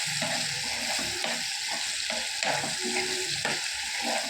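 Onion powder mixture sautés in oil, giving a steady close sizzle with soft stirring scrapes of a spoon against the pan throughout.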